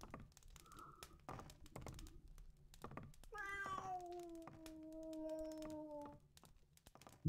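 A cat-like meow from a creature in the video game Gothic 2. A long, falling, drawn-out yowl rises above faint clicks and taps, with a short earlier chirp and a thump at the end.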